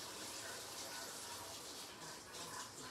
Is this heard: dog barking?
no